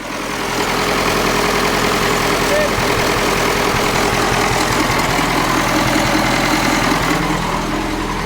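A combine harvester engine idles after a cracked crankshaft was replaced, giving a steady low, rough rumble with a faint knocking pulse that stays close and loud throughout.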